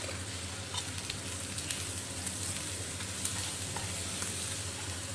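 Prawns fry in hot oil with curry powder, chilies and other ingredients, giving a steady close sizzle with faint stirring clicks throughout and no voices.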